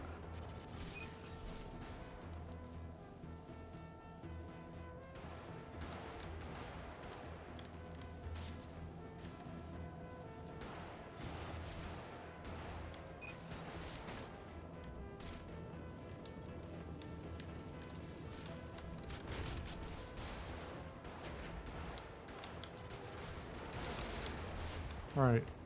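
Heavy, sustained gunfire and explosions fill a battle in the video game Brigador, with dense crashing impacts and bursts running continuously at a steady loud level throughout.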